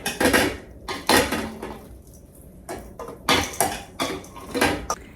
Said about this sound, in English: let me add this in here and then mix that all together